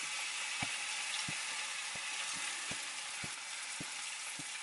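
Okonomiyaki batter sizzles and fries steadily in a pan, a dense crackling hiss broken by regular soft knocks of stirring, with no voices.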